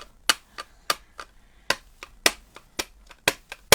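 Hands clap roughly a dozen times in a quick, slightly uneven rhythm, each sharp clap close and crisp against a quiet room.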